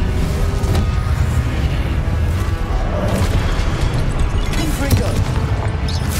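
Incendio fire spell cast in the Hogwarts Legacy video game, a loud, dense rumbling burst of game effects that roars continuously throughout with booming, crackling texture and no pause.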